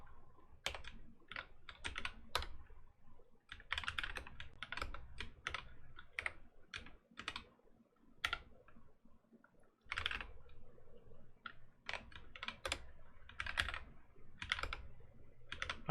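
Rapid clicking of keys on a computer keyboard during WordPress deployment work with AWS CloudFormation, in irregular bursts of taps with brief pauses, close and fairly quiet, with no talking.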